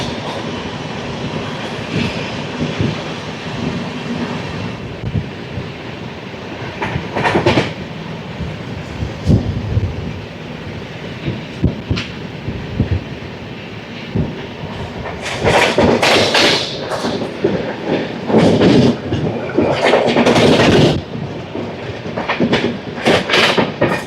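The Tirupati–Secunderabad Padmavati Superfast Express (12731) passing close by, loud rumbling with rhythmic clickety-clack and heavy thumps of wagons over rail joints that intensify toward the end.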